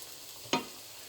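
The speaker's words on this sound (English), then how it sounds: "let's go start frying this gorgeous onion to be nice golden brown" Chopped onion hits hot oil in a pan and gives one brief, faint sizzle that quickly settles back into a quiet hiss.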